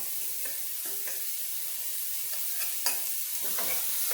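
Carrot, tomato, onion and Scotch bonnet pepper fry in a pan with a constant bright sizzle, while occasional scrapes and clicks of stirring come through close by for Jamaican-style steamed callaloo.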